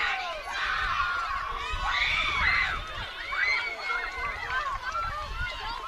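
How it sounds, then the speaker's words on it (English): Young children screaming and shouting together in a softball dugout at an 8U all-star game, a dense, continuous high-pitched chorus of cheering voices, close and loud throughout. "Got the dugout over here just screaming"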